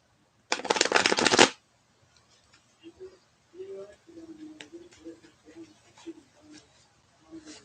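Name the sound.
shuffling a deck of tarot cards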